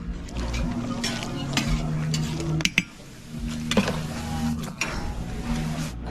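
Pans being stirred and scraped over a wood fire in Turkmenistan, with a steady sizzle of frying food, metal clinks from utensils and a sharp knock or two.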